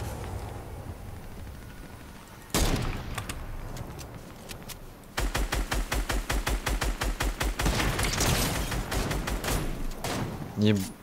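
Gunfire in a video game, with a single sharp shot, then a long run of rapid, evenly spaced automatic bursts and a final short rattle, loud and close, while players talk quietly over it.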